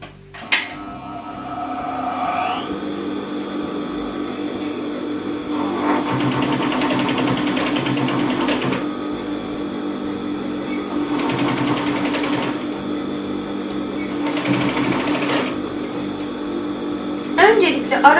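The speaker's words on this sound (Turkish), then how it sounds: "Ve ileri geri işlemiyle örerek bu kısmı sağlamlaştıracağım." A sewing machine stitches back and forth across denim while reinforcing a repair on torn jeans, a close steady motor hum in long runs with short pauses between passes.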